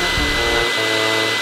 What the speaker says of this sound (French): J'allume l'aspi.